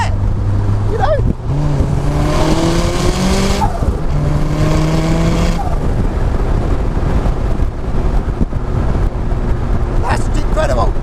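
Loud, steady road noise and engine drone from an RX-5 250 with 375 bhp at motorway speed on a test drive, with rising engine tones over continuous tyre and wind roar while someone talks over it.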